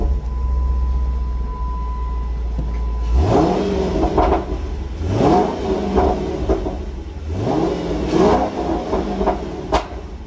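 A Dodge Challenger SRT8 with a newly fitted K&N cold air intake idles with a deep rumble, then is revved in three rising pulls, each swelling loud and falling back to idle.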